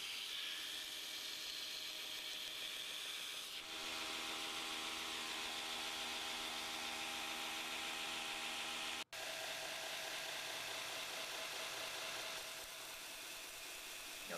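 Knife blade bevel being ground up to a scribed line on a power grinder, a continuous close abrasive whine and rasp with a brief break near the middle before grinding resumes.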